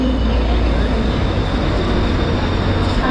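Mandovi Express on the Konkan Railway pulling into the station, a loud, continuous rumble of rolling wheels and carriages that stays close and unbroken throughout.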